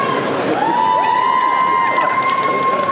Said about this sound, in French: On l'applaudit, s'il vous plaît, quand même.